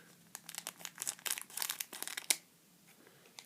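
A Pokémon Plasma Gale booster pack wrapper crinkles and tears under fingers, a close run of sharp crackling bursts ending in one louder rip before settling to quiet.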